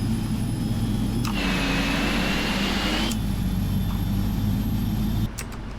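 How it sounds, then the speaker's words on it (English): A PMDG 777 freighter's jet engine spools up in a Prepar3D flight simulator: a steady low turbine drone, then a loud rushing whoosh for about two seconds that fades back into the drone before dropping off at the end. "We do have a good engine start."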